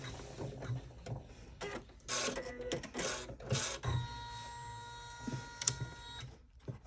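An embroidery machine runs basting stitches to hold a sling backpack panel in the hoop, a busy mechanical rattle and whir with rapid needle clicks, close but moderate in level.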